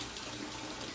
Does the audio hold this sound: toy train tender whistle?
no